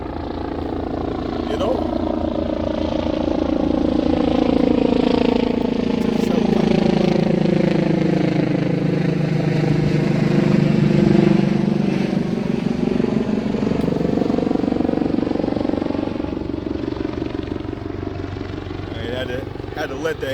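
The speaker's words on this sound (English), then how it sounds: "Had to let that helicopter go by" A helicopter passes overhead, a low droning rumble that swells and fades over about twenty seconds beneath someone talking almost continuously.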